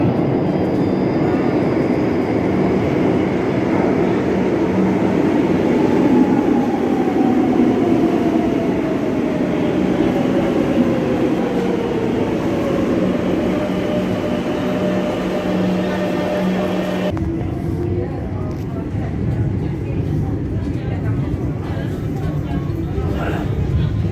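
A metro train running underground, a loud, steady rumble with a drawn-out pitched whine that sweeps across the middle of the passage, before the sound abruptly thins and quiets near the end.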